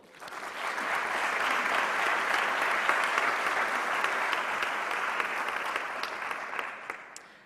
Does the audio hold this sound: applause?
yes